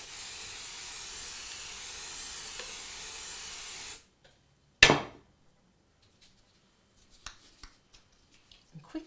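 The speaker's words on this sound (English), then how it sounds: "And you give it a nice spray." Aerosol spray can coating a wreath with a continuous loud hiss for about four seconds, then a short sharp burst, followed by faint scattered handling sounds.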